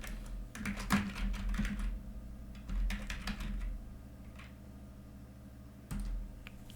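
Computer keyboard keys clatter as a command to make a new directory is typed at a terminal, close and crisp, in short uneven bursts of clicks followed by a pause and one last keystroke, with no talking.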